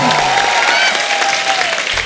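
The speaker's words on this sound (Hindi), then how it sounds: "एक बार जोरदार तालियां अनुपम जी के लिए और ईशा के लिए।" Studio audience at a Kapil Sharma comedy show breaks into loud, continuous applause, a dense wash of clapping that holds steady before cutting off.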